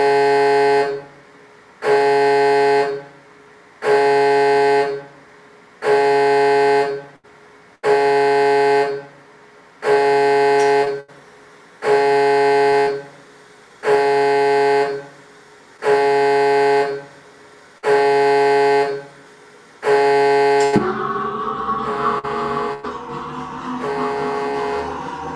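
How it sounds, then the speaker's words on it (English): A loud horn-like alarm at a rocket engine static fire test blares in ten evenly spaced blasts of about a second and a half each, then gives way to a broad rumbling roar. "There goes the alarm."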